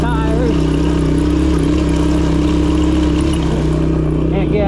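A 1984 Suzuki LT185 ATV engine labors steadily uphill, its mid-pitched drone holding constant and close throughout, with a rider's voice talking over it.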